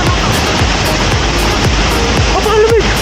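Taytay Falls in Majayjay, Laguna roars as a steady, loud wall of rushing water, continuous and close, with a brief faint tone near the end.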